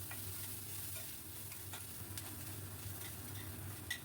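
Ginger paste fries in oil with whole cumin and garam masala, giving a soft, continuous close sizzle with a few faint ticks of stirring.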